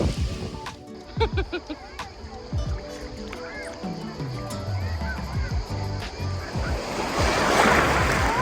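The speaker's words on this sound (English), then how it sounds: "It's so windy. There are a lot of waves" Wind and surf roar steadily at a beach near Zadar, Croatia, building louder toward the end, with people talking intermittently over the crashing waves.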